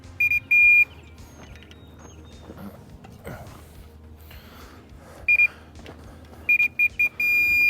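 Beeps from a grade level receiver used while leveling a large area of ground, short bright tones in bursts at the start and near the end over low machinery rumble.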